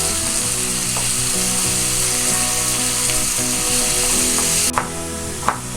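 Pickled cucumber, garlic and carrot frying in oil for rassolnik soup, a loud continuous sizzle close by, with a couple of sharp utensil knocks against the pan near the end.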